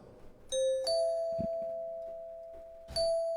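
Bright struck bells sound in a percussion loop, three distinct strikes each ringing out with long sustained tones that overlap and decay slowly.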